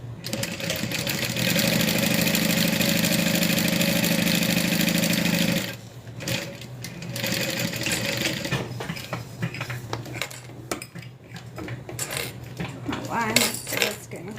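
Sewing machine stitching the other side of a fabric wristlet, a steady loud mechanical whir running continuously for several seconds, then stopping and giving way to quieter handling clatter and faint rustling.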